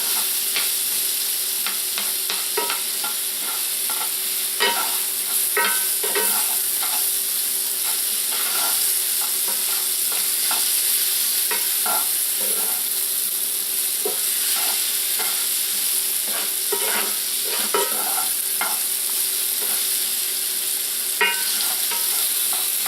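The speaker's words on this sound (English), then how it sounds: "And we're just gonna continue to cook all of this down. And this is in olive oil." Vegetables cook down in olive oil in a pan, giving a steady, close sizzle with scattered scraping stirs and clicks throughout, no talking.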